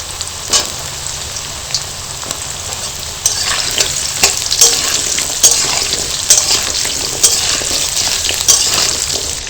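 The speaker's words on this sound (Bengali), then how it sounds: "এবার আমি আলুগুলো দিয়ে দেবো" Long-cut potatoes go into hot oil with tempered spices in a pan, the sizzle swelling louder partway through, with repeated sharp scrapes and clacks of stirring and no speech.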